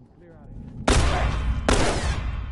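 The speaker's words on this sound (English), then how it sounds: "We heard gunshots." Two loud, sharp gunshot blasts in the video game The Last of Us Part II, about a second apart, each ringing out into a sustained roar; a faint voice is heard just before.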